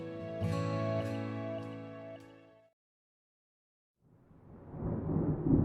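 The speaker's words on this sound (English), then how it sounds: "Big black cumulonimbus clouds are in the sky, and that sound. Thunder snow is coming." Thunder rumbles in the video game Deadly Premonition 2, a low, rolling rumble that swells after a short silence and follows a sustained musical chord, growing louder toward the end with no talk over it.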